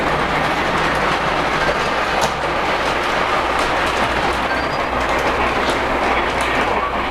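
The Polar Express ELF work train rolls along the track on a North Pole run, giving a loud, continuous rumble with rhythmic clickety-clack of wheels over rail joints, heard up close throughout.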